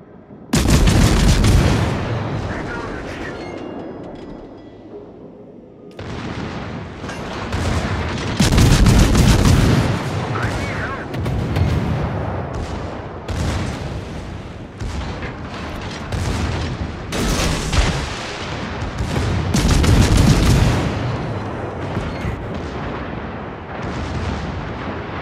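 Heavy naval artillery from warships in World of Warships booms out in repeated loud salvos, deep blasts rolling one after another across the whole stretch with a brief lull near the start.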